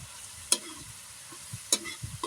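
Tofu and string beans sautéing in a pan, a quiet sizzle broken by a few sharp spatula scrapes and clinks as the mixture is stirred.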